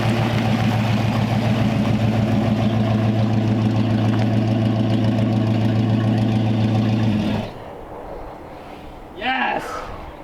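A 1932 Ford Coupe engine idling steadily and loud at close range with a thermostat fitted, then cutting off abruptly partway through, leaving quieter background noise and a brief rustle.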